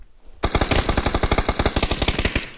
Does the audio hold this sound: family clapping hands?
no